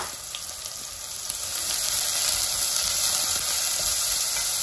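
Onion dropped into a hot oiled pan sets off a loud, close sizzle that swells after a quieter start and then holds steady and hissing, with no talking.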